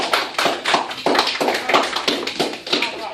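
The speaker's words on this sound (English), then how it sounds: "Give him a hand clap" A small class claps hands together for a student, about a dozen sharp, fairly even claps close by over a few seconds, with no talking over them.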